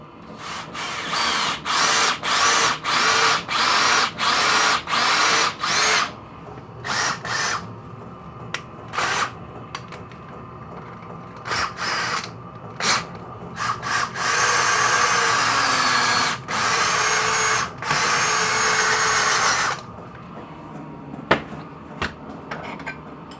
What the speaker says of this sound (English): I'm just doing this by hand. The holes are acting as quite a good guide for the reamer.